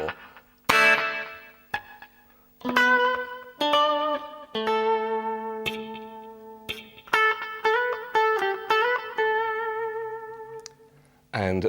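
A clean electric guitar plays the outro bars of a song in separate, ringing chordal phrases with sustained notes and short gaps between them, bright and up close with a touch of chorus and reverb.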